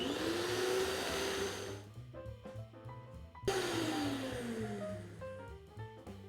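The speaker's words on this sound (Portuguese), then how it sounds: "Agora eu vou bater por 1 minutinho até ficar uma farofa bem úmida." Electric stand mixer at low speed beating margarine into a moist crumb mixture for a lemon cake, a loud steady motor whine that dips and shifts pitch in the middle before resuming, close by without talk.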